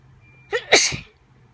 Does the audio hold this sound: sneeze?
yes